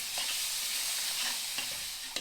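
Minced garlic hisses in hot oil in a suspended wok over a cooking grate, a bright, constant sizzle close by with a couple of light clicks near the end.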